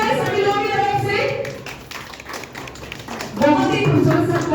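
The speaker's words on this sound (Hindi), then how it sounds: "एक बार जोरदार ताली हो जाए सभी लोगों की तरफ से।" Audience clapping at a property expo held on Republic Day in Bihar, applause rising and falling over a few seconds with a voice talking over the clapping through much of it.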